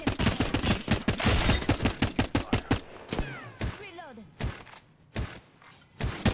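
Rapid automatic gunfire from an Apex Legends weapon cracks out in a dense burst, then breaks into scattered single shots with gaps, loud and close, while players talk over it.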